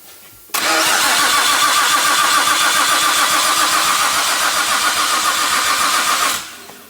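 A Nissan R34 Skyline engine cranks and catches, running loud and steady at close range for about six seconds before cutting off abruptly.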